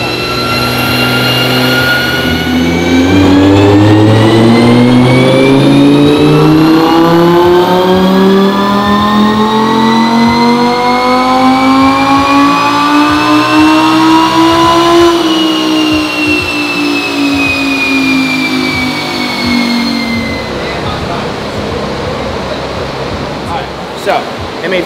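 Supercharged Audi R8 on a dyno making a full pull, a very loud engine whose pitch climbs steadily for about fifteen seconds, then drops as revs fall and fades to idle near the end.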